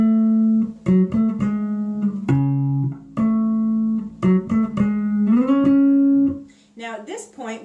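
A bass guitar plays the intro of a song high up on the neck, a series of sharp plucked notes and slides with ringing sustain, close and loud, ending in a brief scratchy flurry.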